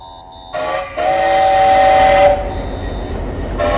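A steam train passes nearby with a long, loud steam whistle blast lasting over a second, over a rushing rumble and hiss of the cars that continues after the whistle stops, then a brief whistle returns at the end.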